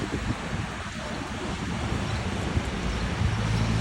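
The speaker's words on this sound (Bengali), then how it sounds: "ঝনঝন কিন্তু একটা বাতাস বয়ে যাচ্ছে এবং বাতাসটা অত্যন্ত ঠান্ডা বাতাস" Cool wind after rain sweeps across a house rooftop in the early morning, a steady, close rushing roar that buffets the microphone throughout, with no voices.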